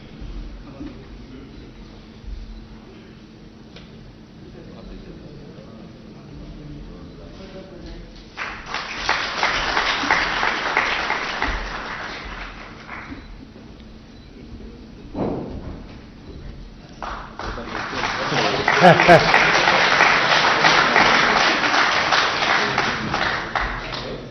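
Applause at a political ceremony for a state cabinet expansion in Uttar Pradesh, India. Two sustained bursts of crowd clapping rise out of a quieter, murmuring room, the second louder and longer.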